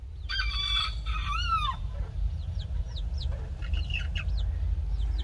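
A hen calls out loudly at the start, followed by a series of short, quieter clucks over steady low background rumble.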